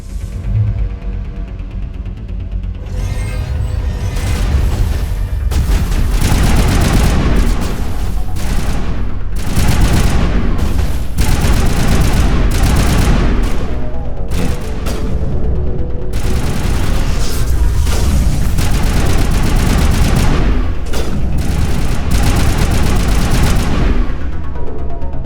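Assault rifle fire in the sci-fi shooter Mass Effect: sustained, dense bursts of rapid automatic shots with booming impacts, loud and continuous with short pauses between volleys, no talking.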